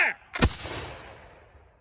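A Revolutionary War–era musket volley fired on command, one sharp loud blast with a decaying outdoor echo, preceded by a brief shouted order.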